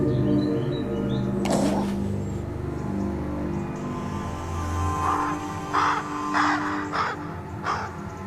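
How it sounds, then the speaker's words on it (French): A black bird, the wolf's hunting companion, gives a series of harsh caws: one early call, then a quicker run of several more, heard over a steady low rumble like a passing vehicle. "L'oiseau noir appelle encore son compagnon de chasse."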